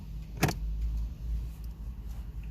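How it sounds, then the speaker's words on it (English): A single sharp snap as a plastic interior trim panel beside the gas pedal of a Ford Escape is pried loose, close and brief, over a steady low hum. "First, we'll pop the cover panel off,"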